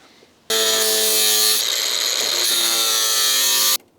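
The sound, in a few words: cutting disc cutting rusty Porsche 924 front wing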